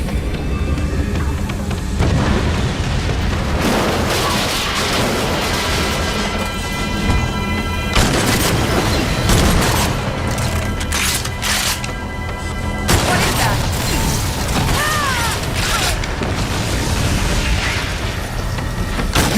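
Turrets being destroyed in the video game Agents of Mayhem: repeated heavy booms and explosions burst over a dense, rumbling game soundtrack, loud and close, with bursts of character dialogue between them.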